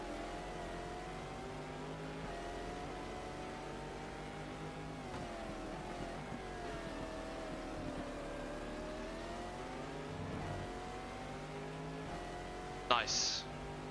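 A race car engine in a racing game at Sebring drones steadily throughout, its pitch rising and falling with gear changes as the car laps, with a sharp brief click near the end.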